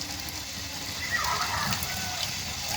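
Tap water runs steadily into a kitchen sink while a metal baking tray is rinsed, a constant splashing hiss with occasional light clatter of the tray against the basin.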